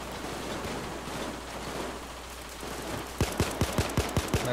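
A rapid burst of gunfire in the video game Payday 2 rings out near the end, about eight sharp shots in quick succession, after a stretch of steady noise.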